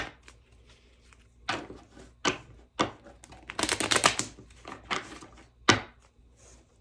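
A small mini tarot deck shuffled by hand, giving a series of uneven papery riffles and taps with a busier burst in the middle, close up and with no voices.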